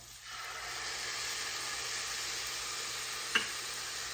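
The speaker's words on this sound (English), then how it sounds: "go ahead and add in your soy sauce" Soy sauce hits shrimp fried rice in a hot pan, and a steady loud sizzle rises and holds, with a single small clink near the end.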